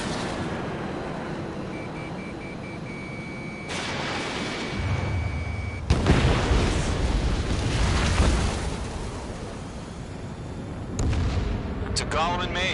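Missiles explode in a jet combat video game on PS4: heavy rumbling blasts over a constant roar, with a sharp, loud boom near the middle and another burst toward the end.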